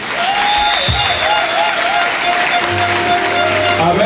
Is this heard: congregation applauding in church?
yes